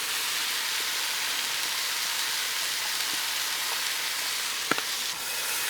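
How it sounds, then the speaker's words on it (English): Hamburger meat with onions sizzles loudly and steadily on a hot Blackstone griddle, a constant bright crackling hiss with one small clink near the end. "I love the sound of that sizzle on this griddle"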